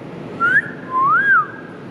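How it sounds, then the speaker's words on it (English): A person whistles two brief tones, a quick rising note followed by a longer rise-and-fall note, close up over faint background hiss. "Can't whistle."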